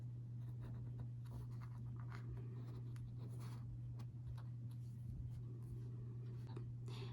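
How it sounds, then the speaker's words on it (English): A pen drawing lines on denim jeans being prepared for sashiko mending gives faint, short scratchy strokes at close range over a steady low electrical hum, with no talking. "So I'm going to go ahead and draw the lines here."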